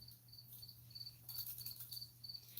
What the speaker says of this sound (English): Just give in to the crickets, Alan. Give in to the crickets.